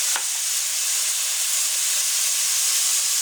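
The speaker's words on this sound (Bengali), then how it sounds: "গরুর মাংসটা একটু ভেজে তারপরে ঝোল দিয়ে দিতে হবে একটু সামান্য করে।" Broth poured into beef frying in a pan, producing a loud, continuous steamy hiss and sizzle that stays close and steady throughout.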